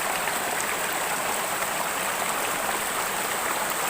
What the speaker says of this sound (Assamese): এই ঝৰ্ণা এই অতি সুন্দৰ